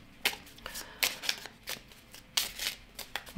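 Kipper cards are shuffled for a reading in a quiet room, giving off a string of soft, crisp riffles and taps at an uneven pace.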